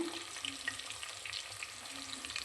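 Onion fries in ghee for vegetable ghee rice, a soft continuous crackling sizzle with light scattered pops and faint stirring, fairly quiet throughout.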